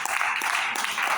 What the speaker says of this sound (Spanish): Denle un aplauso a Dios, mis hermanos.